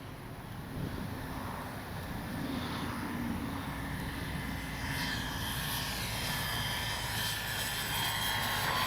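A Dynam Bf-109 radio-controlled warbird plane drones steadily overhead, its motor a continuous whine mixed with heavy wind rumble against the microphone, holding an even level throughout with no voices.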